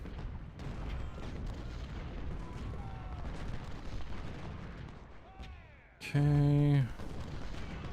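Artillery fire in the Civil War strategy game Ultimate General: Civil War, a steady rumble of distant cannon booms and battle noise with one loud sustained blast near the end, under brief talk.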